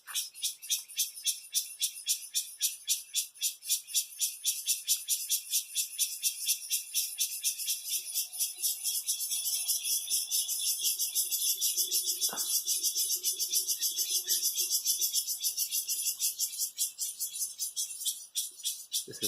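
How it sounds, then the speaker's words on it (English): Cicadas sing loudly from a tree in Taiwan, a dense, pulsing high buzz that runs continuously throughout, with a brief faint sound from below partway through. "this is some video of a cicada tree"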